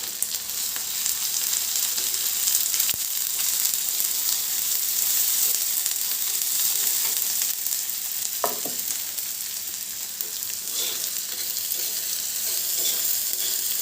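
Onion fries in oil for a Khandeshi green cowpea chutney, a loud continuous crackling sizzle with a couple of spoon knocks and scrapes, and no one talking.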